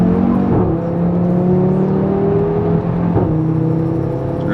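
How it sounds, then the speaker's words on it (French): An Audi RS3 five-cylinder engine revs up and accelerates with a rising, throaty drone, briefly dipping at gear shifts before climbing again, loud and close. "quand ça relance 5 cylindres"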